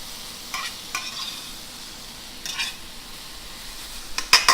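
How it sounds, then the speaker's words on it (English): Vegetables tossed in a hot pan with salt and pepper, giving a soft continuous sizzle with a few scraping, clattering stirs and a louder metallic clank near the end, close by and with no talking. "all I'm doing is tossing the vegetables"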